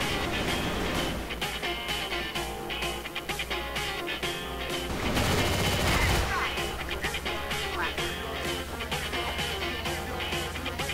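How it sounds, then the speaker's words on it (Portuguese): Rapid bursts of video game gunfire crackle in a spy-mode match, with repeated shots and a louder blast midway, under excited players chatting over them. "Eu nem vi de onde veio os tiros."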